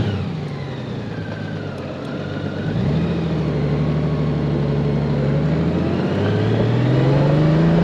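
A 2018 Honda Gold Wing motorcycle engine fires up and settles into a steady idle before rising in pitch as it revs, a loud, close, continuous mechanical hum with no talking.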